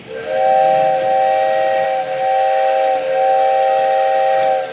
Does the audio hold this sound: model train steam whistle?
yes